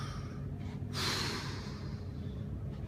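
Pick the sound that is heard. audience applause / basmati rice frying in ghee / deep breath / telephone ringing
deep breath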